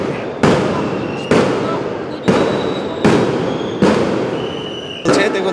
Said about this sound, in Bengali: দর্শক আপনার গুলির শব্দ পাচ্ছেন